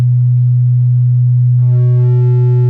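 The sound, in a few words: clipped synth sine wave tone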